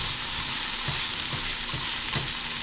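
Steak and onion frying in a pan while being stirred, a loud, dense sizzle with soft rhythmic scrapes of the utensil repeating roughly every half second, close up and without talk.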